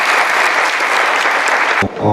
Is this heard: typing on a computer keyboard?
no